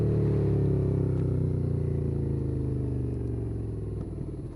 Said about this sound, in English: That V-twin is so good.